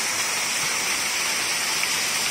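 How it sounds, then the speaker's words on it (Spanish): Natural waterfall La Calaboza near Yopal, a dense, steady rushing roar of falling water, continuous and even with no voices over it. "La cascada natural aquí a 7-8 minutos de Yopal."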